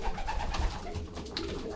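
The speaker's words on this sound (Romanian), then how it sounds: "sunt porumbei care le mănâncă mai bine și sunt unii care pur și simplu încă nu le cunosc" Pigeons cooing nearby on the ground where they are eating, a soft low murmuring under a steady background hum, with no talking.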